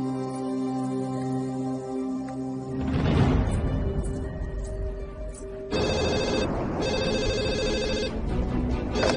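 A telephone rings in a film scene with a repeated electronic ringtone that continues over the whole stretch, set against background music and noise.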